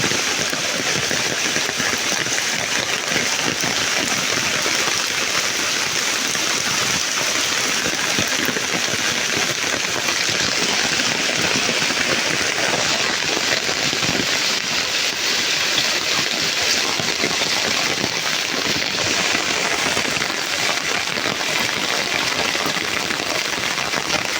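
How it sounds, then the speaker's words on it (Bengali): Heavy rain pours onto flooded roads, a dense, constant roar of water hitting standing water and surfaces, loud and unbroken with no voices. "আমাদের এলাকায় যে সময় ভরপুর বৃষ্টি হয় দেখুন কি অবস্থা রাস্তাঘাটের"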